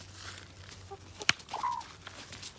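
Backyard garden chickens give a few short clucks and squawks at moderate distance, with one sharp, loud peck or knock sound in the middle.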